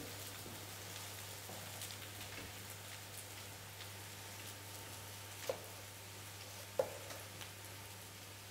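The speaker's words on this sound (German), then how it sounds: "Bratkartoffeln brutzeln jetzt hier vor sich hin" A soft, steady sizzle of potatoes frying in a pan with a constant low hum beneath and a couple of small clicks, quiet and without talking.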